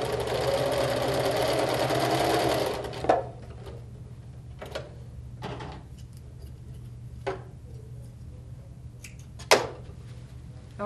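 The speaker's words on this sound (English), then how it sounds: "So I will sew this third piece together." A sewing machine runs in a fast whirring burst for about three seconds while joining fabric pieces, then stops, followed by quiet handling clicks and taps against a low steady hum.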